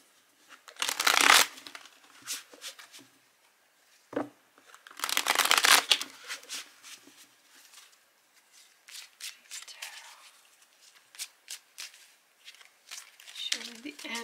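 Tarot cards shuffled close by, two loud riffling bursts early on followed by softer, scattered slides and taps of the cards, while someone talks over them.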